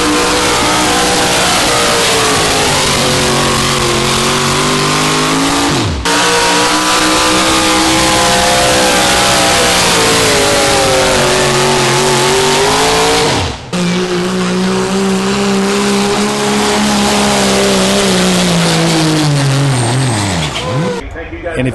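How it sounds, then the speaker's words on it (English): The engine of an old Power Wagon truck revs hard at a county fair truck pull. The roar holds loud and continuous with rising and falling pitch sweeps and a few sharp drops, with voices heard over it. "I think this is a pretty cool old power wagon."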